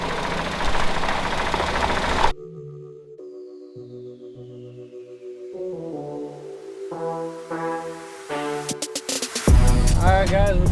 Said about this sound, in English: I'm giving it a little bit more throttle